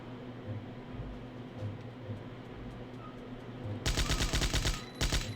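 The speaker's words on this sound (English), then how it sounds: "we're going to pull out one of our bigger guns to deal with Carl" Rapid bursts of heavy automatic gunfire from a big gun in the Die Hard: Nakatomi Plaza shooter game, loud and close, two dense volleys near the end over a low steady game ambience.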